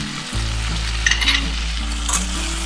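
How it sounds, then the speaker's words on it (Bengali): Ground cumin, coriander, turmeric and chili powder fry in a pan for a Bengali bhindi chorchori with small fish, giving a loud, continuous sizzle with occasional scraping stirs and no talk. "মশলাটা আমি প্রায় 1 মিনিট মতো ফ্রাই করে নিতে হবে।"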